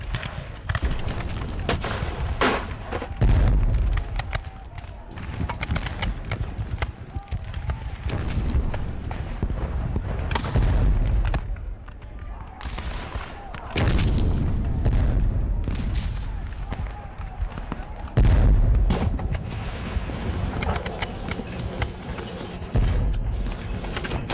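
Gunfire and artillery from a video game recreating the 1864 Battle of Fort Stevens: loud bursts of rifle volleys and heavy booms recur in waves over a constant battle din.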